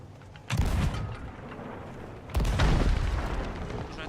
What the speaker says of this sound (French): tu m'as détruit au canon